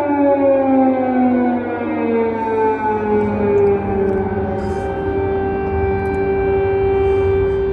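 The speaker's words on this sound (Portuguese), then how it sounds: "A sirene está tocando, hora de ir para o abrigo antiaéreo." A loud air raid siren in wartime Ukraine wails steadily at 4 a.m., its tone slowly gliding downward and holding for several seconds, with no voices.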